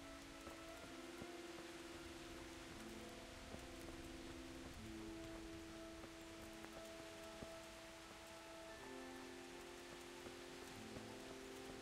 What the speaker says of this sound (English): It's raining, dude.